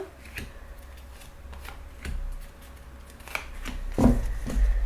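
Tarot cards are drawn and handled, giving soft papery flicks, slides and shuffles with a few sharper snaps, close and quiet.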